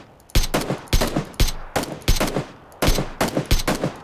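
Rapid automatic gunfire in a battle royale game, close and loud, fired in tight bursts of several shots with brief pauses between, no talking over it.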